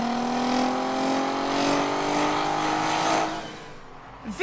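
A Volkswagen Golf R32 with its 3.2-litre V6 pulls hard under acceleration, the engine note rising steadily in pitch for about three seconds before cutting off as it passes, loud and close with a brief shift or lift at the end.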